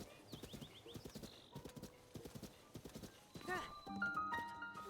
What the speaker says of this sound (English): Horse in the shrine.